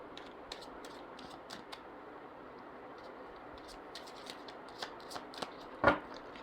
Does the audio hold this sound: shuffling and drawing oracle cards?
yes